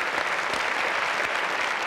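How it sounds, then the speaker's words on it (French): Steady, dense studio audience applause on the French TV show Coucou c'est nous, even in level and continuous from start to finish, with no voices over it. "Applaudissements"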